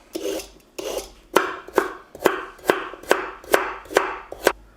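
A knife cuts peeled carrots into rough chunks on a board, making a steady series of about nine sharp, close chopping strokes with short scraping drags between them and no talking.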